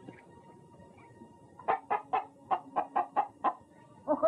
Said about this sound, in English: It's a rooster.